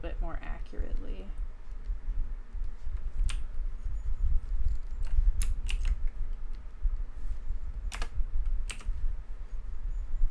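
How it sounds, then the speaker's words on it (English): Mechanical keyboard keys clack irregularly during a pet portrait drawing stream, sharp close clicks scattered over a low rumbling background, with a voice speaking near the start. "I have a mechanical keyboard, so my mouse clicks, or my keyboard clicks might be a little loud in the ears"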